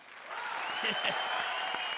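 Audience applause at a live comedy show, a steady wash of clapping that swells in and holds for about two seconds, with a voice calling out briefly over it.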